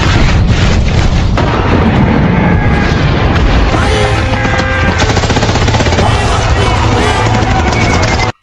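In a Hacksaw Ridge battle scene, dense machine-gun and rifle fire mixes with heavy cannon booms in a loud, relentless barrage that never lets up.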